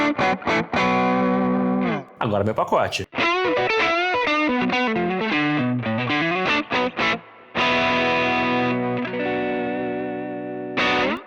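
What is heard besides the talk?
distorted electric guitar through Valeton GP-5 amp simulator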